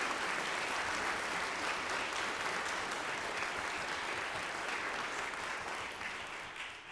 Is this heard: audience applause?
yes